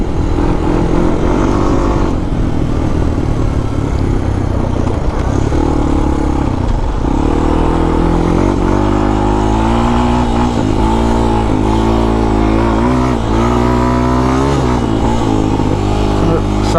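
A Honda TRX250X ATV engine revs hard while being ridden off-road, a loud, continuous buzzing drone that rises and falls with throttle changes, close to the machine.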